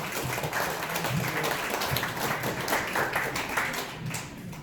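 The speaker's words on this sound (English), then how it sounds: "So big round of applause for them" Audience applause at a company holiday social, a steady wash of many hands clapping at moderate volume throughout, with no voices standing out.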